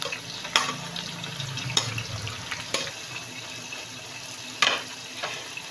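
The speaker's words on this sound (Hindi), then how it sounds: "और इनको गोल्डन ब्राउन होने तक फ्राई करेंगे" Two kilos of onions frying in a pan toward golden brown for aloo mutton korma, a soft continuous sizzle with occasional clinks and scrapes of stirring, fairly quiet and without voices.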